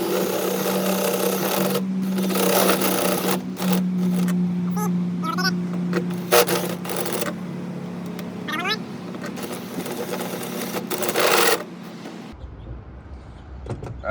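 A step drill bit bores out a hole for a waterproof camera port with a loud, steady whirring drone that runs in repeated bursts and cuts out near the end, while a person speaks over it.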